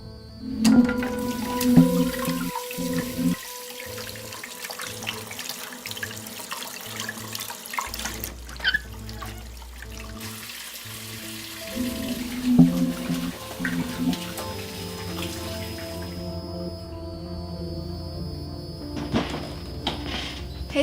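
Hot water runs from a tap into a sink while blood is washed off, a steady splashing stream with a few clinks and pauses in handling.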